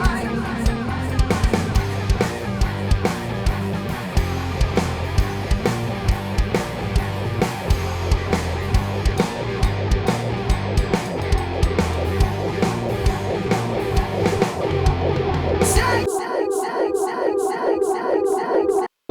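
A heavily fed-back vocal delay in Pro Tools builds into a washy, smeared wash of repeating echoes over a driving beat, then the music drops out and the echoes swirl alone, thinning out toward the end.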